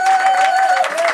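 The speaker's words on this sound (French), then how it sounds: "nous applaudissons pour la gloire de Dieu" Church congregation applauding during a worship convention, a steady wash of clapping filling the room for about a second, with voices singing or calling out over it.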